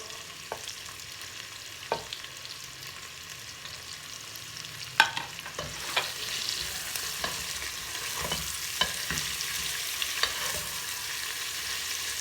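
Onions sizzle in hot oil in a pan for mutton curry, with a steady frying hiss broken by scattered clicks and scrapes of a spoon stirring through them.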